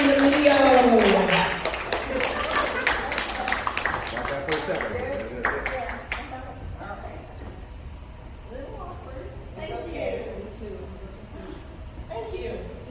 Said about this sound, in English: Start clapping, ladies and gentlemen, for Karen the Leo